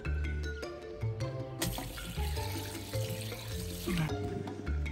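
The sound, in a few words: water draining out of a swimming pool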